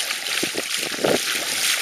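Flood water in a flooded street during a storm in the Var splashes and sloshes steadily, with a continuous broad wash and a few brief nearer splashes.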